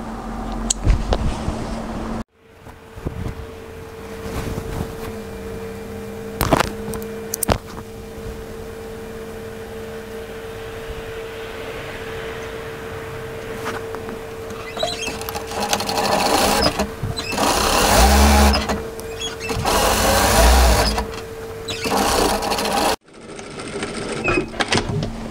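A domestic sewing machine stitches a cotton apron fold seam in a long continuous whirring run, loud and close, briefly pausing and restarting with small clicks before stopping.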